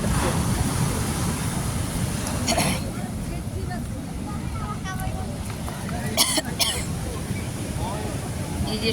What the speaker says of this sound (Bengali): জোয়ার এতটা ঢুকে গেছে সমুদ্রের ঢেউ